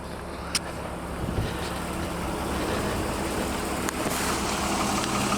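A BMW E46 engine with lifter rattle, after a camshaft tray swap, runs at a steady idle: a continuous mechanical drone with a faint ticking clatter and a couple of sharp clicks, heard up close without speech.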